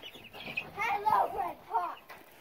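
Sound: Americana chickens clucking

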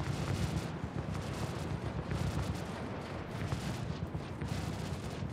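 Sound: ship gunfire in video game Star Citizen

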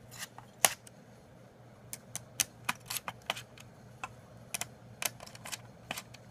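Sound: unscrewing screws on a Dell Latitude E6410 laptop

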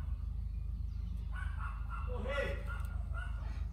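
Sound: dog barking at the mail carrier

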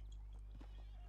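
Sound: horse in the video game Red Dead Redemption 2

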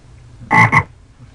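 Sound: frog croak startup sound of Toad software

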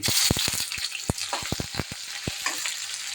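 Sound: onion and garlic frying in hot oil with spices

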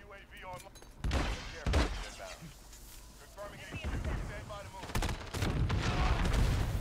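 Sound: gunfire shooting C4 explosive, Modern Warfare video game

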